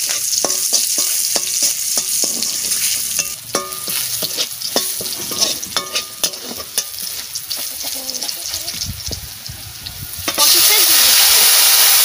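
Garlic hits hot mustard oil with bay leaves and mustard seeds, a loud sizzle broken by repeated spatula scrapes and taps, then a sudden surge of hissing near the end.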